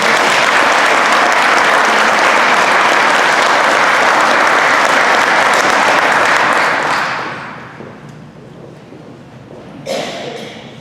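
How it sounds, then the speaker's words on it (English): Loud, sustained applause from a banquet audience at a high school FFA awards dinner fills the room for about seven seconds, then fades to scattered claps and quiet room noise. "we can have a large round of applause for our new"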